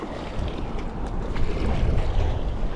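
Heavy wind buffeting the microphone while paddling a kayak through rough weather, a continuous low roaring rumble with gusty swells and no voices.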